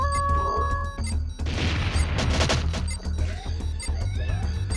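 A grenade blast in Jet Force Gemini goes off as a sudden loud crash with a boom, followed by a few seconds of rumbling debris and scattered smaller bangs over steady game music.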